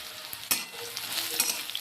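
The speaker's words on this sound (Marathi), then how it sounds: "मऊ होईस्तोपर्यंत आपण हिला चांगली फ्राय करून घेऊया।" Okra (bhindi) fries in a pan, a close crackling sizzle broken by quick stirring scrapes and small taps.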